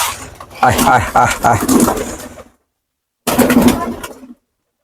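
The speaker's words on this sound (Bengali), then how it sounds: "তো এই যে কবুতরগুলো আসলে একে একে আসতেছে" Pigeons gather to be fed paddy grain, cooing close by in two short bursts with a pause of silence between them.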